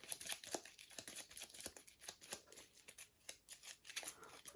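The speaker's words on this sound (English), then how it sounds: "So you shuffle up the combat cards." Blood Rage combat cards are shuffled by hand in quiet, close rhythmic riffles and soft papery flicks, repeated several times in a row.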